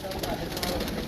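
Soft cooing of a pure Neel Dumba pigeon, a show breed kept by pigeon fanciers, heard briefly against a steady background with a faint murmur of voices.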